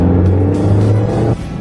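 Cartoon car being driven, a loud, steady engine rumble close by that holds evenly, then drops abruptly near the end.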